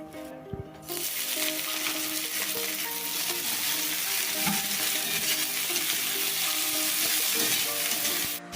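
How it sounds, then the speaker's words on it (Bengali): Shredded cabbage frying in hot oil for a filling, a loud continuous sizzle that swells after a brief quiet start and holds steady to the end, with faint stirring underneath. "তো এবার তেল দিয়ে দেব। এবার দিয়ে দেব বাঁধাকপি।"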